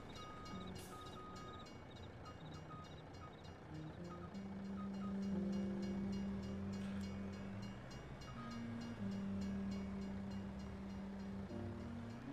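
A train rolls steadily along in a video game, giving a continuous low rumble with sustained whining tones that hold level and swell slightly throughout.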